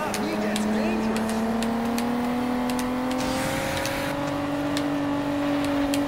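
Game car engine in Juiced 2, a steady, loud drone that rises gently in pitch as it holds speed, with short tyre and impact clicks over it and talk throughout.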